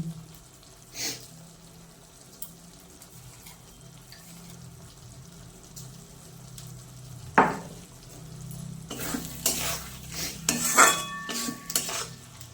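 Tomatoes and spices fry in a pan while a utensil stirs and scrapes, close and clear, with bursts of clatter and sizzle growing busier toward the end, no talking.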